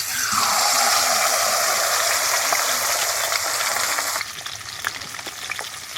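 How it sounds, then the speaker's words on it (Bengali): Katla fish pieces frying in oil, a loud, dense sizzle that stays steady for several seconds, then drops to a softer crackle with light clinks as the pieces settle. "এই যে এবার আমি মাছগুলোকে ভেজে নেব"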